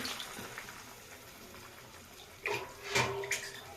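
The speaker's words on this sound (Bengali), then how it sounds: "আরও এক কাপ জল দিলাম" Water poured from a cup into a pot of fish curry makes a quiet running trickle, then a louder splashing gush near the end, with no talking.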